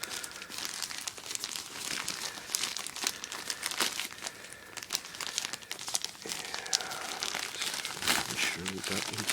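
A package holding a Spanish M09 woodland camouflage field shirt is opened: continuous close crinkling and crumpling of plastic wrapping with occasional tearing, while a person talks intermittently.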